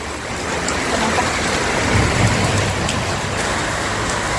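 Heavy rain pours down in a dense, steady hiss that stays loud and even throughout, with a faint low rumble underneath and no talking.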